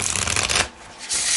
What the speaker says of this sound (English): it shuffles really nice. It's 60 cards, shuffles really beautiful, overhand or riffling.